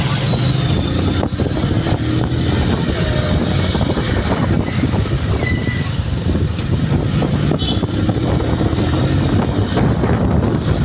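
A Bajaj motorcycle fitted with a new 38 and 15 sprocket rides along, its engine droning steadily under loud wind rush, with a voice talking over it.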